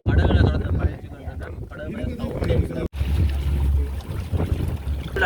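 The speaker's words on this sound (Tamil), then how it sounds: "ஒன்றுக்கு பாருங்க, இங்காலையும் ஒரு போட் ஒன்று வந்திருக்கு." A boat moves across the water at a new boat service off Mandaitivu, Jaffna, its steady low engine rumble mixed with wind buffeting the microphone and people talking.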